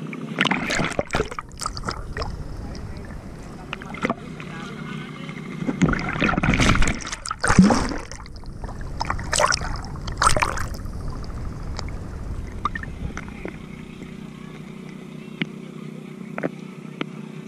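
Small boat moving across water, engine hum and splashing varying in intensity, louder bursts midway then a steady quieter drone.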